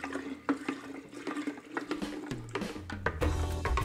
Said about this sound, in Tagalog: Tapos, lagay natin yung ating tubig.